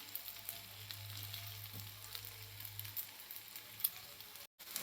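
Toshe bhakri, a Malvan-style cucumber and semolina flatbread, sizzles on a griddle with a steady close frying hiss throughout and a low hum that stops near the end.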